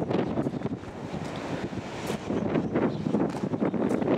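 Strong gusts from Storm Pia roar and buffet the microphone in Bempton, Yorkshire, a steady loud wind rush with surging peaks throughout and no talking.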